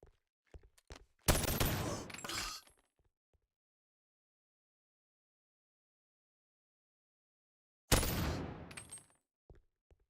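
Gunfire in the video game Bonelab: two loud bursts of rapid shots about six seconds apart, each ringing briefly, with a few faint clicks and near silence between them.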